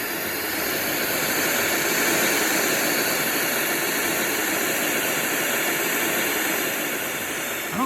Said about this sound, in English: I don't like white noise.